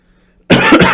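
A single sharp, loud cough breaks suddenly out of near silence, close to the listener.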